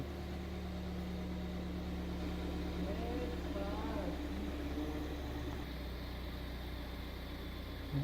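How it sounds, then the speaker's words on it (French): A car engine idles quietly and evenly just after being started during an automotive diagnostic check, a steady low hum with no talk over it. "On met le véhicule en route."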